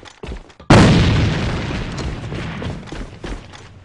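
A grenade blast in the shooter game AVA: a brief thud, then one loud, close explosion that booms and slowly fades as debris and rumble trail off.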